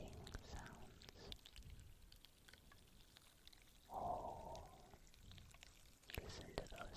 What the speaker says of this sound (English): The popping sounds.